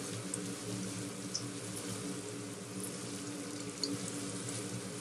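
About 250 grams of food, with chorizo, fries quietly in a soup pot, a soft continuous sizzle with occasional small pops, fairly faint and without any voices.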